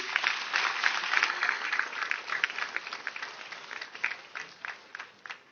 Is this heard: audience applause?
yes